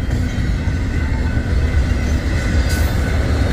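A Kansas City Southern freight train led by locomotives rolls past at a street crossing in Birmingham, Missouri, a loud continuous rumble of wheels and railcars with a brief higher squeal near the end.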